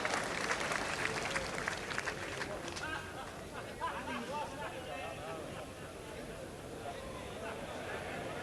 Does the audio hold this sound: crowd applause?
yes